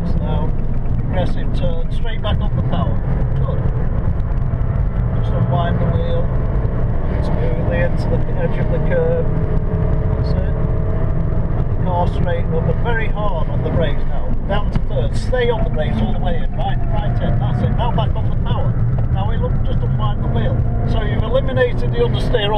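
Abarth 595 Competizione on the Silverstone circuit, its engine droning steadily and rising under power beneath continuous in-car commentary, with wind and road noise throughout.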